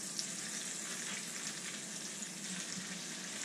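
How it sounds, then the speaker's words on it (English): Food searing in a hot pan, giving a steady, dense sizzle that stays loud and close throughout, with no voices over it. "Now I am going to cook these for about 3 to 5 minutes, just to sear them as the recipe calls for"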